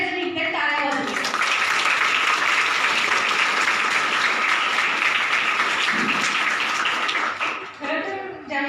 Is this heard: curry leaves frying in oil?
no